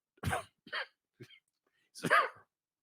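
Several sharp coughs in a row, close and fairly loud, with short pauses between them, ending in a longer, harsher cough.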